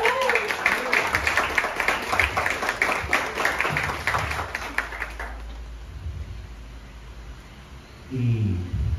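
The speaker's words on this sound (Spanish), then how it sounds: "Denle un aplauso, está hermoso, ¿verdad?" Wedding guests clap in a burst of steady, fairly close applause for about five seconds, then it fades out into background noise as a voice starts talking.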